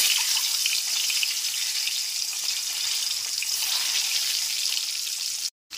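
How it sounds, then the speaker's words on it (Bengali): Eggs coated in salt and turmeric hitting hot mustard oil, a loud, steady, close sizzle and crackle of frying that runs unbroken before cutting off abruptly near the end. "তেলটা এখানে খুব ভালো মতো গরম হয়ে গেছে। এবার লবণ আর হলুদ মাখানো ডিমগুলোকে দিয়ে দিচ্ছি।"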